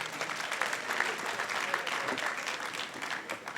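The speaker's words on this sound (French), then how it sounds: "Dr Massamba Gueye, je vous demanderai de l'applaudir fortement." An audience applauds at an award ceremony honouring 240 pupils at a Dakar city hall excellence celebration, with dense, steady clapping filling the room throughout.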